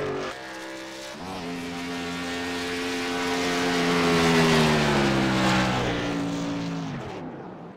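The number 26 Winn-Dixie race car's engine drones loudly in qualifying, rising steadily in pitch and volume as it passes by with a Doppler drop, then fading out, with no voices over it.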